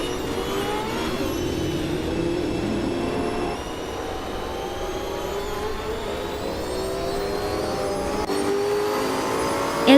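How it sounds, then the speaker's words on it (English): A 1996 Alfa Romeo 155 V6 race car in a racing video game, its engine holding a steady, loud, high-pitched drone with a brief dip as it shifts, then climbing back up. "Waffling Godders is cruising in the 1996 Alfa Romeo 155T IV6"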